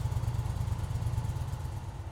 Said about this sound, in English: Start the engine and allow it to idle for 30 seconds.